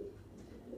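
Madrasi pigeons in a loft give a soft, low, continuous cooing, faint and close, filling the short moment without any voices.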